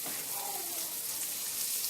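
A steady, hissing sizzle of pecan-crusted veal cutlets frying in a pan, close and continuous, with no talking.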